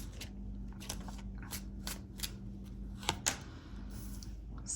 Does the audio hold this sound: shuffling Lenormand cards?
yes